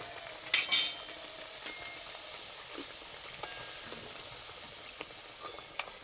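Luchi puffing up in hot oil gives a steady soft sizzle throughout, with a couple of sharp utensil clinks near the start and light taps scattered after.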